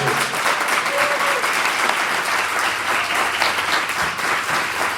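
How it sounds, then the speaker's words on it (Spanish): Strong, dense applause fills a film festival hall, a loud continuous round of clapping from the audience with no one speaking over it. "les voy a pedir por favor un fuerte aplauso para todos"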